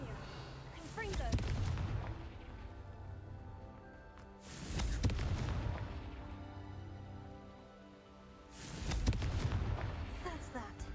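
Confringo explosion spells burst three times in a witch video game, each a loud booming blast with a rumbling tail, spaced a few seconds apart over background music, with speech-like sound present.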